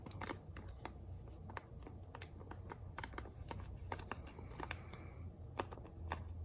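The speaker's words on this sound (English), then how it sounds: "And I'll just fold over the tape." Transparent nail wrap tape folded over by hand, a quiet run of soft crinkling and tapping clicks with no voices.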